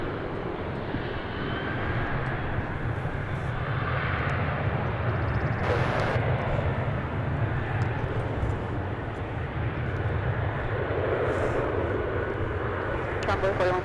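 An American Airlines jet takes off from DFW International Airport, its engine roar swelling into a broad, sustained rumble heard from a distance, with radio voices over it.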